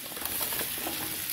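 Potatoes fry in butter with onion in a pan, giving a dense, steady close sizzle with faint crackles and no voices.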